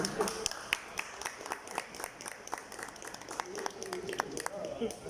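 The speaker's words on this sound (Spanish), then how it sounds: "Por favor, recibámonos con un fuerte aplauso." An audience gives a faint round of applause for Francisco Morales before his testimony at an FIHNEC gathering, with scattered, sharp claps spread through the clip over background room noise and murmuring.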